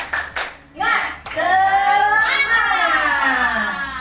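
In a school classroom, a group does a rhythmic clapping chant: a few sharp, separate claps open it, then voices shout together loudly in a sustained chant with claps underneath.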